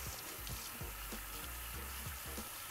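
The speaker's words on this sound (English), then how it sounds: "Make sure you wash your hands for at least 20 seconds." Steady running tap water splashing over hands in a sink during handwashing, a continuous rushing wash with small bursts of splatter, close and fairly loud throughout with no talking.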